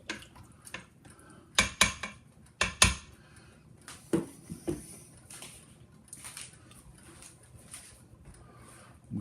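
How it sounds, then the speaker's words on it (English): A utensil stirs chili in an Instant Pot, with uneven clanks and scrapes against the metal insert in short bursts, then softer wet stirring sounds, close up with no speech. "Now, let's stir it up some more."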